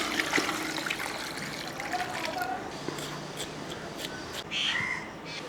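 Peeled potatoes are rinsed in a bowl of water, with soft trickling and light splashing that stays fairly faint throughout, while a crow caws in the background.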